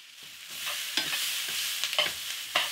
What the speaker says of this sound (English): Just slightly cook off the ginger and the garlic and caramelize the tomato paste just so slightly.